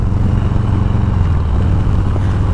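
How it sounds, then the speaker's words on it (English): A 2022 Harley-Davidson Heritage Classic 114 rides along on an early Arizona morning, its engine a loud, close, steady low rumble mixed with wind noise, with no talk over it. "Just out riding today on the Heritage, my 2022 Heritage Classic 114."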